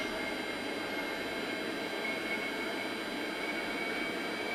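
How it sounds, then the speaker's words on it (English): A simulated aircraft engine in the FlightGear flight simulator holds a steady, even jet-like roar and whine, a constant level drone with no talk over it. "we're gonna go ahead and turn up the throttle and turn off the parking brake real quick, and get moving"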